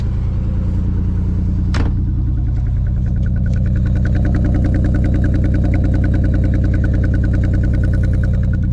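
A Stillen Z car engine idles steadily at a slightly raised, even pitch, loud and close, with a brief sharp click near the start.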